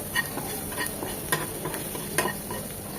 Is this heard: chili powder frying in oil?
yes